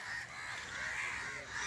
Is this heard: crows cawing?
yes